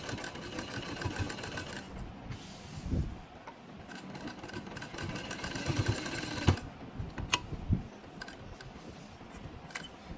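A sewing machine stitches lace onto a dupatta, a close, steady mechanical whir broken by sharp ticks and clacks as the fabric is worked.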